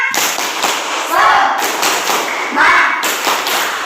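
A school class claps together in a quick rhythmic cheer pattern, sharp overlapping claps in bursts with voices chanting along, loud and close.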